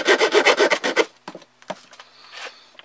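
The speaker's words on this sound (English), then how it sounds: "Well, that's nearly through there, so it will cut metal, but it's a bit slow." Swiss Army knife saw cutting through metal, a rapid run of rhythmic rasping strokes for about a second, then scattered scrapes and scratches, close up.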